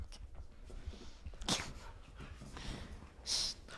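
A dog in a podcast recording room makes snorts, sniffs and short whimpering noises, with a sharp snort midway and a higher whine near the end, fairly quiet and close.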